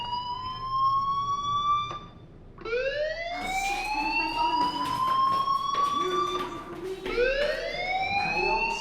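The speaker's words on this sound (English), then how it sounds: "do you hear that fire alarm?" A fire alarm in the video game Life Is Strange wails in rising, sweeping tones, three long swells that climb and hold, loud and steady with a brief dip between cycles.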